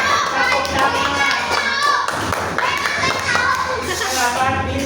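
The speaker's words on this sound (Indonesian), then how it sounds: "Tepuk tangan." Children in a Year 5 primary school classroom clap their hands together, a steady burst of many small hands close by, with young voices chattering and calling out over the clapping throughout.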